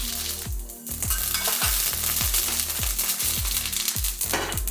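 Mustard seeds sizzle and crackle steadily in hot coconut oil with scattered sharp pops, while a repeating low thumping beat runs underneath.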